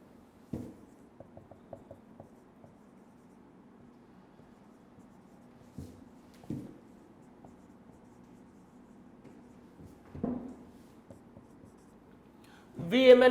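Pen strokes and taps as a chemistry question is written out by hand, soft scratching with a few sharper clicks and knocks, quiet and close, ending in a brief louder sound.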